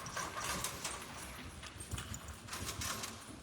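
Horse hooves clip-clop in a steady, fairly quiet rhythm at a working stable, with broadband outdoor noise throughout and no talk.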